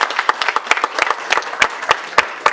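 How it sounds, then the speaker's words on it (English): An audience at a city council meeting claps for a winning youth team, a lively scattering of sharp individual claps with an uneven rhythm, close and fairly loud, with no voices over it. "Give them another big round of applause."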